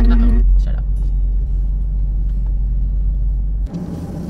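A car reverses slowly, its engine giving a steady low rumble that holds close and even for several seconds before dropping away near the end. There is no talk.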